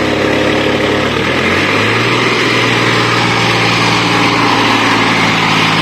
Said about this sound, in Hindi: ये फुल आरपीएम के ऊपर चल रहा है ट्रैक्टर